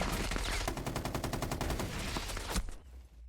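Rapid enemy gunfire in Rainbow Six Siege, a sustained run of sharp evenly spaced shots that keeps going for nearly three seconds before cutting off abruptly, loud and dense.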